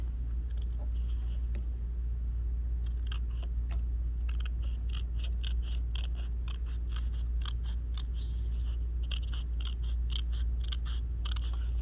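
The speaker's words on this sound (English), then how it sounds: "I'm going to need to take scissors and just trim a little bit of that away" Scissors trim away a small overshot edge of paper, giving a quick run of crisp, close snips over a steady low background hum.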